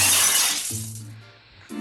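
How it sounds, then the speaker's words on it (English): A rock smashes a school glass window in the video game Betty Noire The Necromancer: one bright, loud shatter at the start that fades into sustained low tones. "With a powerful throw, it smashes against the glass and shatters."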